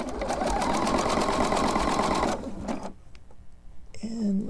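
A sewing machine stitches over a rope trivet made with scrap fabric, running in a loud, fast, even mechanical whir for about two seconds before it stops and is followed by quieter handling sounds.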